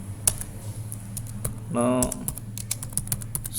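Rapid clicks on a computer keyboard as router configuration commands are entered, with a steady hum underneath and a short spoken word partway through.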